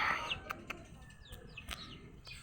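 Chicks peep in a few short, high chirps scattered among soft rustling and scuffing nearby, faint and intermittent with no voices.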